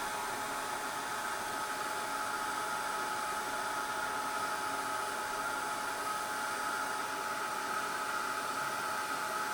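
Handheld embossing heat tool blows hot air onto embossed cardstock held in one spot, a steady, even whooshing roar that stays constant and close for the whole stretch.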